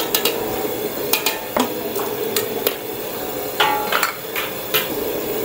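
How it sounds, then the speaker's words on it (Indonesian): Bird's eye chilies being pounded for chicken soup, a series of sharp, irregular knocks with metallic clinks, close and clear over a steady kitchen background. "Kita ketuk cili padi."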